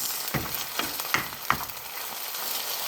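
Sardines frying with garlic in a pan give a steady close sizzle, broken by a few sharp clicks and scrapes as they are stirred.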